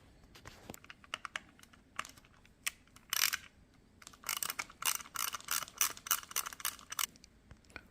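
A T10 Torx driver backs out the screws holding the box on a Tesla Model Y/3 steering wheel, making close, dry clicks and rasping scrapes in irregular bursts that grow busier toward the end, with no talking.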